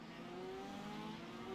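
Open-wheel IndyCar race cars in the iRacing sim at Monza, engines droning at a steady high pitch with a faint rising whine, continuous and moderately near throughout.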